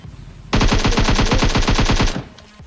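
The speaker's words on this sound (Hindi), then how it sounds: "यहाँ पे फायर वगैरह हो रहा था" Automatic gunfire from the video game PUBG, a sustained rapid burst of loud, evenly spaced shots lasting about a second and a half before stopping abruptly, with no talk over it.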